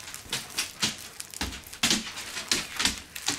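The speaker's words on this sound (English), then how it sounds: "Sorry, my dogs are getting antsy." Restless dogs moving nearby, a rapid patter of claws tapping on a hard floor in irregular bursts, with faint whimpering.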